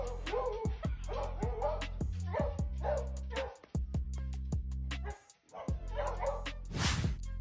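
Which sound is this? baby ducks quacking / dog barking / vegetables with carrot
dog barking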